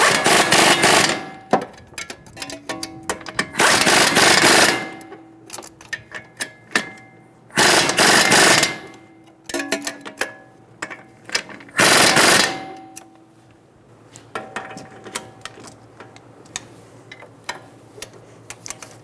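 Bursts of a power impact tool snugging down the nut on a lower front strut bolt of a 2007-2011 Toyota Camry, three loud rattling bursts of a few seconds each with quieter clicks and handling noise between.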